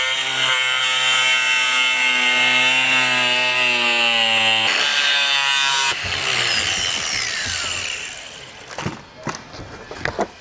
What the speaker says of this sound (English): I'm using an angle grinder.